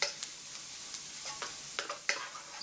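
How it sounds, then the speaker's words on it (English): Chopped spring onion sizzles softly in hot oil in a pan, with a steady faint crackle and several sharp stirring scrapes and clicks; no talk. "All we want to do is to get the oil excited and to get the spring onion flavour starting to soak into the oil."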